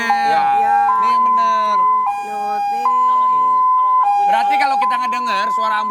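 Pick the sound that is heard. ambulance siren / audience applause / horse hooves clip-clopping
ambulance siren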